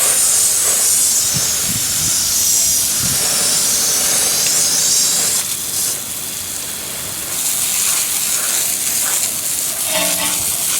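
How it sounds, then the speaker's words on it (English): A hose sprays a strong, steady hissing jet of water as cleaner is rinsed off dirty car wheels, loud and close, with small shifts in intensity as the spray moves. "So now we're going to go ahead and hose that off right over here."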